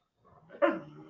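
A single sharp dog bark rings out close and fairly loud, preceded by a brief low whine or grumble, with no talking.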